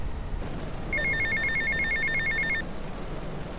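A payphone at an airport terminal in GTA Vice City rings in a steady electronic trill of rapid, evenly spaced pulses for under two seconds over a low background hum.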